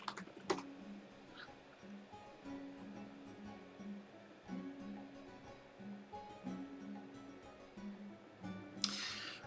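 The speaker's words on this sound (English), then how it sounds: "I'll type in the chat too." Light clatter of keys on a computer keyboard while typing in a live-stream chat, in short quiet bursts with pauses between.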